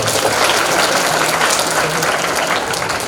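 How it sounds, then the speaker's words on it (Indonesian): Audience applause for the MC at a Tarhib Ramadhan 1444 H gathering: dense, steady clapping from a crowd filling the whole stretch at an even, loud level. "Tepuk tangan untuk MC-nya."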